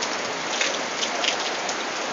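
Steady falling rain, a dense, even hiss of drops close by, with no talking and no pauses.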